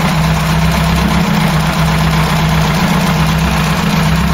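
A Ford Cortina GXL engine runs steadily and loudly up close, with a constant low drone and no clear rise or fall in revs.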